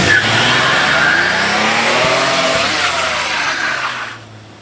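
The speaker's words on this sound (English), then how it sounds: "Let's see how she can spin a tire" A car engine revving hard while one tire spins and squeals against pavement in a steady, loud roar that holds for several seconds before cutting off abruptly.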